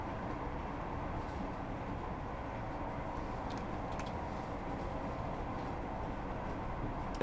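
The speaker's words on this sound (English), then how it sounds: "Oh, hang on, the train's shaking about all over the place, isn't it?" A Class 158 diesel train in Train Simulator Classic runs through the long Cowburn Tunnel on the Hope Valley line, giving a steady enclosed rumble with faint rattling clicks as the carriage shakes.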